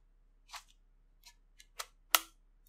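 An old game console being plugged in gives a handful of sharp, quiet plastic clicks, spaced irregularly, the last one loudest, against near silence.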